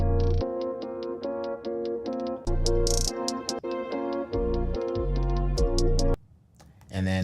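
AI-generated music track in a sound-effects editor, a steady drum beat under a bright repeating melody of plucked, chiming notes, playing loud and close before dropping out near the end.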